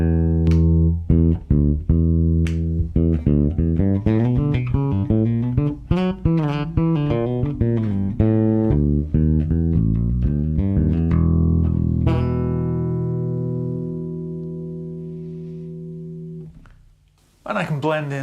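Mike Lull M5 custom bass guitar with its pickup coil split, played in a steady run of plucked notes and slides up close, ending on a long sustained note that rings out and fades.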